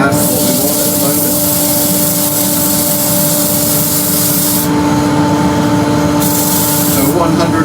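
Wooden hollow form spinning on a lathe while being sanded with 150-grit abrasive, a continuous close hissing rub over the lathe's steady motor hum, with brief shifts in pressure.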